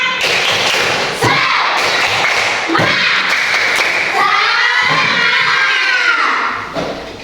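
Schoolchildren in a classroom perform a rhythmic clapping chant, loud sharp claps falling in patterned bursts with short pauses between them, and some chanting voices blend in.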